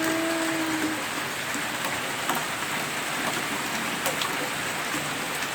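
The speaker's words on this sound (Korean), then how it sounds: "비 엄청 온다. 비 엄청 와." Heavy rain pours steadily at a countryside house, a dense continuous hiss with scattered sharper drips, close and even throughout.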